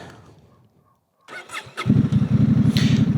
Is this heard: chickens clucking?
no